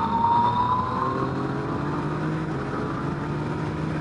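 A Yamaha MT-09 SP motorcycle riding on the road, its engine droning steadily with a low rumble and slowly shifting pitch, close and continuous with no talk.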